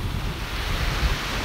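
Ocean waves wash onto a beach in a continuous, full roar mixed with wind buffeting the microphone, no voices.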